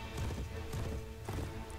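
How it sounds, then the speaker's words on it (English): A horse gallops in Mount and Blade Warband, its rapid hoofbeats thudding in a continuous rolling clatter, close and fairly loud, with no speech over it. "Look at me speed across on my horse."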